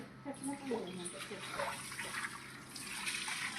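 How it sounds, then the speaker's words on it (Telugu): A hose sprays water outside a house and along a narrow lane, with a steady hiss and splash that builds toward the end, mixed with faint background sounds. "ఇంకా వాటర్ కొడుతున్నాను"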